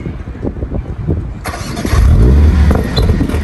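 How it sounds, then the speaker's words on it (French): A Mercedes-AMG A45 S cold-starts after a few quiet seconds: the engine catches abruptly and flares into a loud, close roar, then settles into a high, rumbling idle. "Petit cold start."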